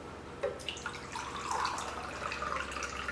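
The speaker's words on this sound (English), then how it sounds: "we're gonna measure out a cup of water" Tap water runs steadily into a measuring cup to portion out one cup for a flour-and-water papier-mâché paste, a soft continuous trickle with faint drips at the start.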